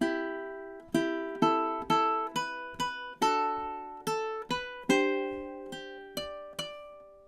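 Ukulele playing measures 9 and 10 of a song, a run of about a dozen clear plucked notes in a steady, bouncy rhythm, each ringing into the next, soft and intimate with no one speaking.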